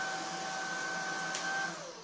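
A Shark cordless vacuum cleaner runs steadily after being switched on, a constant whirring drone with a high motor whine that holds evenly throughout the short stretch, close by with no talk.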